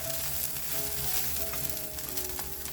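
Garlic and curry leaves frying in a pan with a constant, dense sizzle and faint stirring underneath, close and even in loudness.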